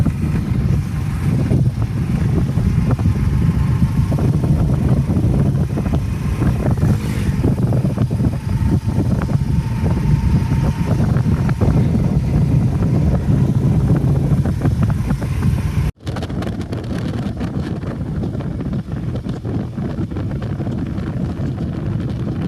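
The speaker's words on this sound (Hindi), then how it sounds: "अब बारी है जी बाइक चलाने की" Steady engine drone of a 2024 Honda CD 70 motorcycle with buffeting wind noise while riding; the tone drops abruptly partway through and continues more quietly.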